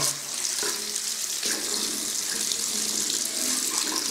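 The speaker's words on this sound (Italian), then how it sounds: "vediamo se viene l'acqua calda" Water runs steadily from a tap at a barber's sink, a close, even hiss that fills the whole stretch while waiting for it to turn hot.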